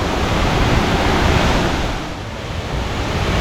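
Tat Fa waterfall in a Thai national park roars nearby with a loud, steady broadband rush of heavy white water and drifting spray, dipping slightly in the middle; no voices.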